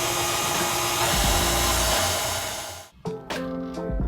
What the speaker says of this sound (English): And blend it up again.